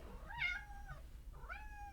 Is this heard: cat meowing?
yes